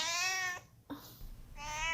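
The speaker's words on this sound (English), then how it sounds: "his meows are pretty weird" A cat recovering from FHO surgery, with a hoarse voice after intubation, gives two close, strained meows separated by a short pause, with a soft murmur between them.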